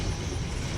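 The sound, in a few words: intermodal freight train leaving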